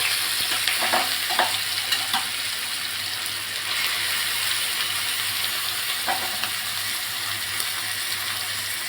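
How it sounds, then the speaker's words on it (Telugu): Cumin, green chillies and onions fry and crackle steadily in a pan, with scraping stir strokes cutting through the sizzle at a close, even level and no talk. "జీలకర్ర వేసుకొని పచ్చిమిర్చి వేసి ఉల్లిపాయలు వేసుకొని"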